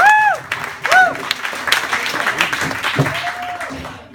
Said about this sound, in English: let me give you a applause for Tim